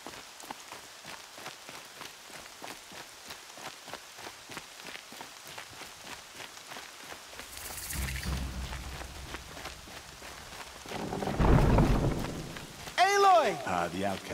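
Steady patter of rain on a surface in the video game Horizon Zero Dawn, with low rumbling swells of thunder building later and a brief musical chime near the end.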